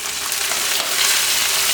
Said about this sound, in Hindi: ऑयल या घी गर्म हो जाए फिर सूजी को ऐड करना है